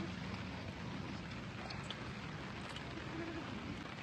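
Light drizzling rain falls at night at an outdoor camp, a steady, soft, even patter of fine drops that stays constant and fairly faint throughout.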